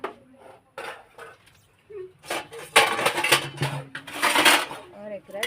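A metal cooking pot being set on a home stove, with clattering and clinking of cookware in short bursts, close and fairly loud, while someone speaks between the knocks.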